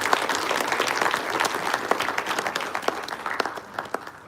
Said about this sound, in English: Please give a big round of applause to our chief guest